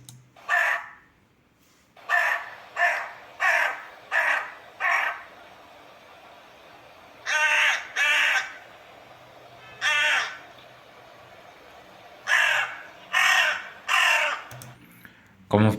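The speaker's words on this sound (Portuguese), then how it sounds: "Começando pela classe de corvo." Crow caws recorded as a sample for a bird-species classifier, coming in short repeated bursts: a single call, a run of five, two paired calls, one more, then three, with quiet gaps between.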